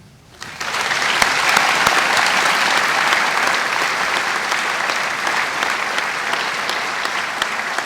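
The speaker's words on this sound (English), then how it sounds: "Will you please join me in a round of applause for our parents?" An audience at a 2021 Marine Military Academy graduation breaks into loud, sustained applause for the parents, swelling quickly and holding steady as a dense wash of clapping.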